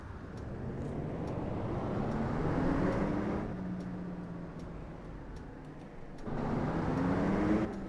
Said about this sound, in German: Hört sich der Bus auch cool an, oder?